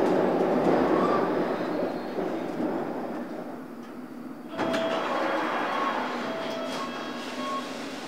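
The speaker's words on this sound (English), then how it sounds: "This is a District Line train to Wimbledon." A London Underground District Line train heard from on board, with a steady rumbling roar of wheels and motors that dips briefly and then surges back, plus faint squeals and clicks.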